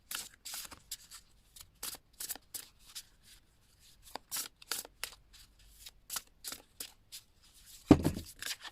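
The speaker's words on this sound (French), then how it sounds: "je vais prendre maintenant une carte de l'oracle de la lumière" A deck of Oracle de la Lumière Blanche oracle cards by Alana Fairchild is shuffled by hand in quiet, repeated short riffling bursts, close and soft, ending with a firmer tap or knock near the end.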